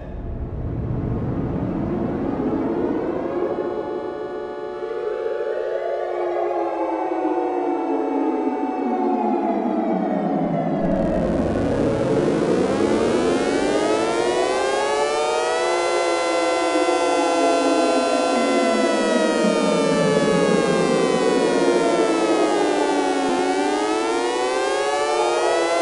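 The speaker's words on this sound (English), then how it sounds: "Testing tornado warning signal." Outdoor tornado warning siren under test, a loud, sustained wail rising and falling in long slow sweeps with a second tone joining partway, steady throughout and heard alone.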